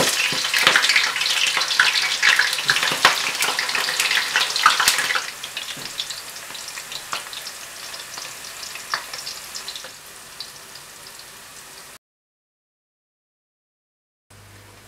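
Chili oil ingredients hit 200-degree oil with a loud, dense sizzle and crackle that eases to a quieter fry partway through, then cuts to silence near the end.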